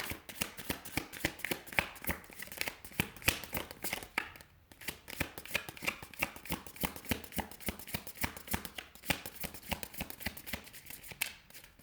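A deck of tarot cards is shuffled by hand in a quiet room, a long run of quick, crisp riffling flicks with a short pause midway, close and fairly soft with no talking.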